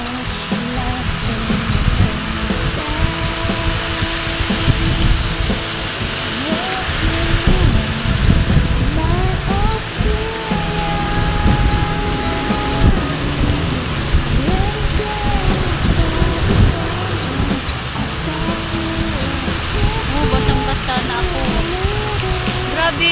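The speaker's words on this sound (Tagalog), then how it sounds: "Ang lakas ng ulan, ang lakas ng hangin." Heavy rain pours continuously, drumming hard on surfaces, with gusty wind roaring underneath and faint voices now and then.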